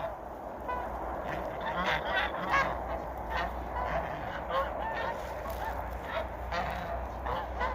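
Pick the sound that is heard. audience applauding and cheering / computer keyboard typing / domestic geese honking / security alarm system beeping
domestic geese honking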